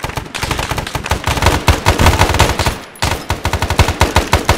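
Loud, close automatic gunfire rattles almost nonstop in the Vietnam War video game Cam Lao Nam, with rapid bursts broken by one short pause before the firing resumes.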